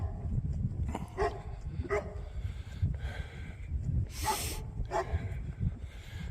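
Three puppies bark outdoors during a walk, a few faint, spaced yaps over steady background noise.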